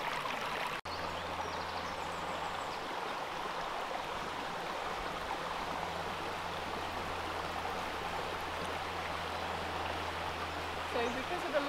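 Water flowing in a chalk stream, a steady, moderately close babbling wash, while a person speaks over it.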